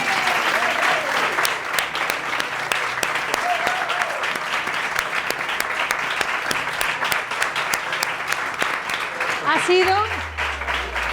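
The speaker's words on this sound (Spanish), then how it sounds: "Un fuerte aplauso, por favor." Audience applause fills a conference hall, a sustained dense round of clapping that runs steadily throughout, with voices briefly heard near the end.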